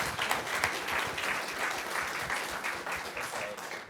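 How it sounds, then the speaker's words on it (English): A live audience applauds a team at a live show, a full crowd clapping with a busy, crackling texture that fades slightly toward the end. "another round of applause for team 2"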